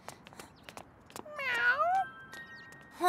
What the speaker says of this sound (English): A cat. Were you abandoned?